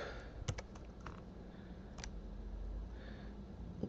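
Quiet keystrokes tap on a computer keyboard as code is entered. A few clicks are scattered over a faint background hum, with no talking.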